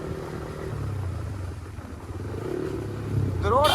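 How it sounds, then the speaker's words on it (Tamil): A Royal Enfield Bullet motorcycle rumbles along a hill road in the Kolli Hills, its low steady engine thump heard nearby under someone talking, swelling louder near the end. "இந்த புல்லட்டு தாங்க நம்ம பின்னாடி வந்துக்கிட்டே இருக்கு."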